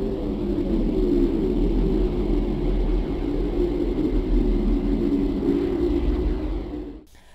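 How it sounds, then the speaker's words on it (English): Earth's natural electromagnetic emissions converted into sound form a steady, dense low rumble with a broad hiss above, constant for about seven seconds before cutting off abruptly. "For example, the Earth sounds like this."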